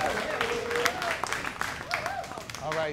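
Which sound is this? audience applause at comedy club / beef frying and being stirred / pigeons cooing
audience applause at comedy club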